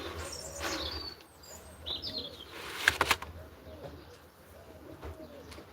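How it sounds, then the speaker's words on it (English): Racing pigeons at a loft, with soft low cooing repeating under the scene, wing flaps and a brief burst of flapping midway, plus faint chirps in the background. "That pigeon's been here about three minutes, and he's not trapping."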